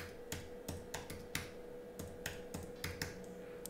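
Someone types a login command on a computer keyboard while setting up a RaspiBlitz Raspberry Pi Lightning and Bitcoin node, giving a run of crisp, irregular key clicks that sit close and moderately quiet with no voice over them.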